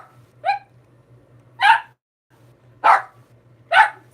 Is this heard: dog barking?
yes